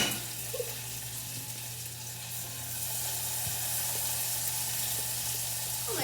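Apple pie filling bubbling and sizzling inside an air fryer, a steady close hiss over a constant low electrical hum, slightly louder in the second half, with no talking.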